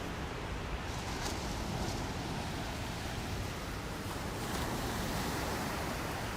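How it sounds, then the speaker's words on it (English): Ocean waves on the beach at Coney Island, a continuous broad wash of surf mixed with wind, steady and fairly loud with gentle swells, no talk over it. "Don't you love the sound of the waves?"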